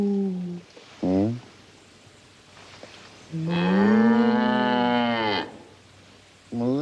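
A cow on a farm moos several times: short lows, then one long drawn-out moo and another starting at the end, close and clear with no talk.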